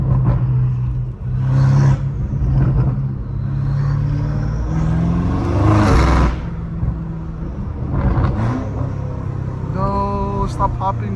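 BMW M5 Competition with a cat-less exhaust, loud revs rising and falling in several bursts with crackling pops between them, close by, with a voice speaking over parts of it.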